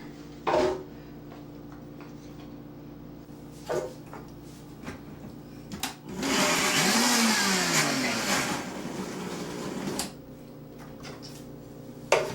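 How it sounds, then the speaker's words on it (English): A blender whirs loudly for a few seconds chopping onion, its motor pitch dropping as it chops, with clicks and clunks before and after. "I use everything I throw inside my blender."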